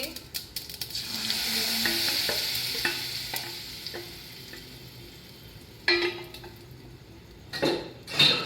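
Batter poured into hot oil with mustard seeds and asafoetida in a pot, a steady sizzle and crackle with a spoon stirring and clinking against metal, a few sharper scrapes and knocks toward the end, no talking.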